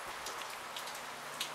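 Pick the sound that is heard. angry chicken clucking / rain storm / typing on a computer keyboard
rain storm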